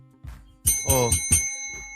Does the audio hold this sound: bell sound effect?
yes